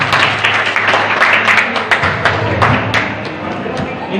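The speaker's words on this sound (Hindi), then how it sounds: "भाई रवि जी पालीवाल के स्वागत में एक बार जोरदार तालियां" A crowd at a BJP political program claps loudly to welcome Ravi Paliwal. The applause is close and continuous, with crisp individual hand claps standing out above a dense, even roar of clapping.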